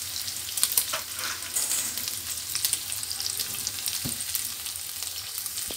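Bacon browns in a frying pan while spaghetti water boils nearby, giving a steady close sizzle and crackle with occasional stirring, no talking.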